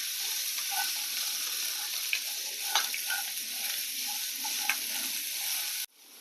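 Onion with cashews and a little salt sautés in a pan, a steady hiss of sizzling under occasional scraping stirs, close and fairly quiet, cutting off abruptly near the end.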